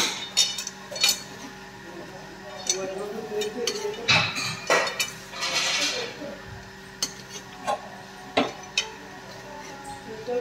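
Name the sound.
stirring and mixing mutton in a cooking pot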